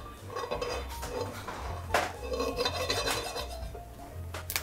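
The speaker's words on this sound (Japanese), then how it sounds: "で付け合わせのカブは、フライパン熱くしたところにオリーブオイル入れて表面を香ばしく焼いていきます" Turnips sear in olive oil in a hot frying pan in a French restaurant kitchen: a steady close sizzle runs throughout, with scraping and a few metallic clinks of utensil against the pan, and no talk.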